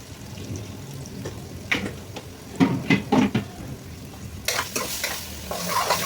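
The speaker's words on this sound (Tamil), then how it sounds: "இந்த ஆயில கொஞ்சம் நல்லா இது வதக்கிக்கோங்க, அப்போ பச்சை ஸ்மெல்லாம் போகும்" Chili powder and spices sautéing in hot oil in a pan, with a steady low sizzle and intermittent stirring scrapes, then a louder burst of frying toward the end; no talking.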